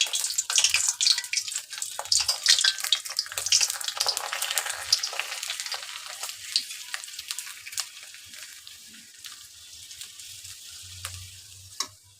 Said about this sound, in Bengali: এখন আমি তেলে ভাজে নিয়ে আপনাদের দেখাবো কেমন হয়েছে